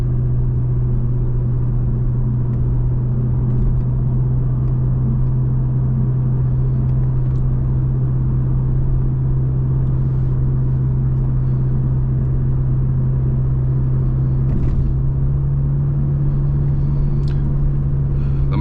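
A steady low engine drone and road rumble fill the cabin of a moving 1996 Toyota Crown with a 2.4-liter turbo diesel, holding constant without speech.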